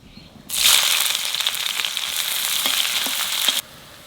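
Asafoetida, dried red chilli and onion dropped into hot oil burst into a loud, sudden sizzle that holds steady for about three seconds before cutting off abruptly, up close with no voices.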